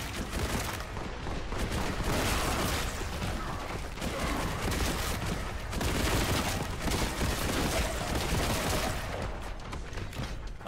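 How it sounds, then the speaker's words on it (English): Kraken bolt rounds firing in rapid, continuous bursts in the Warhammer 40,000: Boltgun video game, a dense, steady barrage with mechanical clatter that lasts the whole stretch, loud and with no talking. "So I got Kraken Bolt strength 5. Whoa! Okay. It shoots different bullets now."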